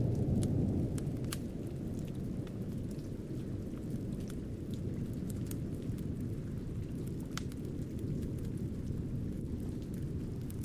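Steady, dense rain falls with a continuous rushing hiss and faint low thunder rumbling underneath, even and unbroken throughout with no voices.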